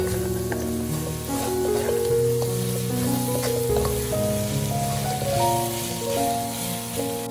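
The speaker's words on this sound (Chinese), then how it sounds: "然后把炸好的排骨也倒下来，将排骨炒均匀" Garlic pork ribs that were already deep-fried get tossed back into a wok, giving a steady close-up sizzle and frying hiss over soft background music, with no talking.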